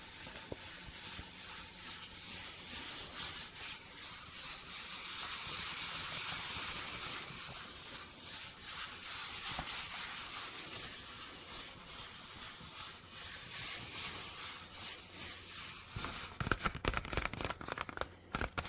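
Cardboard swooshes and rubs with a soft, hissy texture, steady and quiet, ending in a few sharper scraping crinkles.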